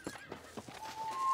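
A horse in the Red Dead Redemption video game whinnies with a drawn-out tonal neigh while hooves clip-clop in a steady rhythm nearby, at a moderate level with no talk.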